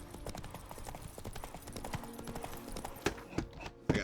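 The horse Roach gallops in The Witcher 3 video game, with rapid, rhythmic hoofbeats pounding steadily and close, a few louder thuds near the end.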